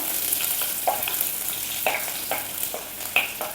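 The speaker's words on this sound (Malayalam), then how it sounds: "ഉലുവ ഇങ്ങനെ പൊട്ടുമ്പോൾ ചെറിയ ഉള്ളി ഇടുക" Fenugreek seeds and small shallots sizzling in hot oil for a Palakkad-style mango fish curry, a constant hiss with scattered light pops and crackles, close and steady without speech.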